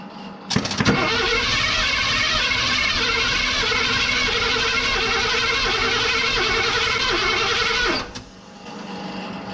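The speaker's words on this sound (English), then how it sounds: "Let's crank it over a few turns and see if everything's moving around like it's supposed to." Starter cranks an old, cheap pickup truck engine over without it firing, making a steady rhythmic churning whir for about seven seconds that stops abruptly, loud and close.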